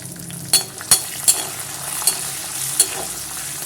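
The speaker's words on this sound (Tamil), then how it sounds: "வெந்தயம் தனியாக நல்லா பொரியும் போது காஞ்ச மிளகா சேர்த்துக்கலாம்." Fenugreek seeds and dried chillies fry in hot oil in a continuous soft sizzle. A utensil stirring the pan gives about six sharp scrapes and clinks at irregular intervals.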